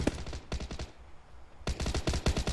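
Bursts of rapid automatic gunfire in PUBG, two dense volleys of close shots separated by a short lull.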